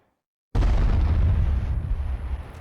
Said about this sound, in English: Cannon fire from west of the Ivan Bell Tower.